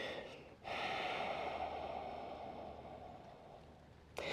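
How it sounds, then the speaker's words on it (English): A long, soft, hissing ujjayi yoga breath drawn through a constricted throat, like ocean surf, with a quicker breath at the start and end. "Constrict the back of the throat. Create the sound of the ocean."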